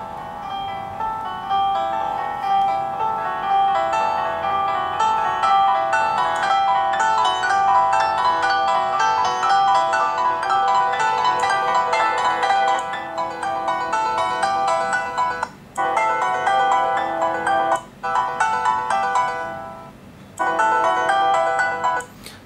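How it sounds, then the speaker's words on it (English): Music plays through the small built-in speakers of an HTC One X and a Samsung Galaxy Note phone, a steady tinny melody with two brief dropouts near the end and no talking. "let me quickly go ahead and play some music on both phones so that you can compare the quality of the speakers"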